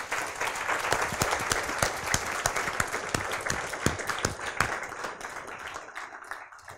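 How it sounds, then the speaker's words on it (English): An audience at a 2018 radio astronomy winter school breaks into sustained applause, dense overlapping claps filling the room at an even level before tapering off at the end. "I request all of you to please give them a big round of applause."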